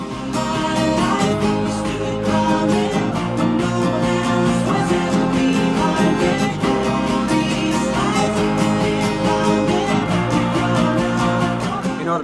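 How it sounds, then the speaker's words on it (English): Acoustic guitar strummed in a steady down-up pattern, dense, even and loud, with strokes ringing continuously throughout and no voices. "Our next strumming pattern will sound like this."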